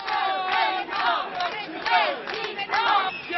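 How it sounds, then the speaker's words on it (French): Large street crowd gathered around a presidential candidate, shouting and chanting together in loud overlapping bursts, heard close and continuous. "Sur le trottoir de gauche, on applaudit le candidat à la présidence"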